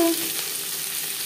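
Chopped onions fry lightly in a pan, a brief, dense and steady sizzle heard up close, with a faint tonal ring at the very start and no speech.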